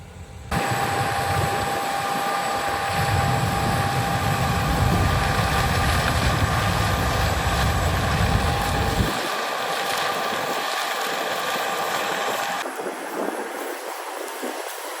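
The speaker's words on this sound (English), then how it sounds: "John Deere 8R 340 hooked up to a Brent 1194 cart." A John Deere 8R 340 tractor pulling a Brent 1194 grain cart gives off a loud, steady engine drone that rises quickly and holds, then thins slightly near the end.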